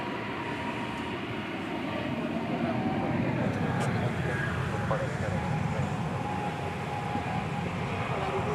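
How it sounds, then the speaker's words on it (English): Airliner at DFW Airport turning onto runway 18 left for a departure to Helsinki, a broad distant jet rumble that swells slightly and holds steady, with a voice talking over it. "Makes the turn on 18 left to begin its flight back to Helsinki."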